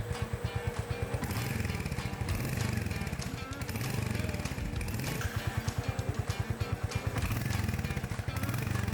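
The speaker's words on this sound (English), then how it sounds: "Switch on the engine and gently raise the RPM for 10 seconds." A Royal Enfield Hunter 350 motorcycle engine running at gently raised revs, a steady throbbing pulse that rises and falls slightly, close and continuous.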